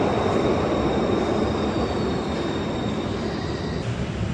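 A Glasgow Subway train rumbles steadily through the station, a loud, continuous low roar of wheels and motors with faint high squeals above, no voices present.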